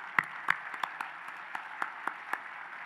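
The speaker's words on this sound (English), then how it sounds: "So kindly please give a hand of applause for you guys." Scattered, sparse clapping from a small audience at a Feast of Nations event, about a dozen distinct claps spread over a few seconds, faint and thin, with no talking.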